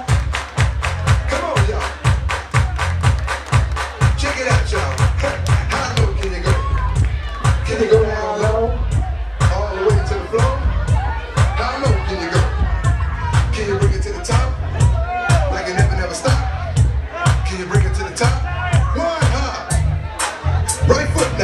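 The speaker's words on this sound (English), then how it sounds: "Everybody clap your hands." A party crowd at a bar mitzvah claps hands in a steady rhythm to thumping dance music, with crowd hubbub and voices mixed throughout.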